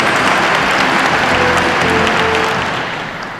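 Audience applause for a startup award winner at a televised creative economy festival ceremony, a steady, loud wash of clapping that fades slightly toward the end, with no voices.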